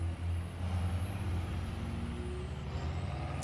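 Heavy vehicle engine rumble from a War Thunder ground battle, a steady low drone with hissing, brake-like air noise, continuous and fairly loud with no talk.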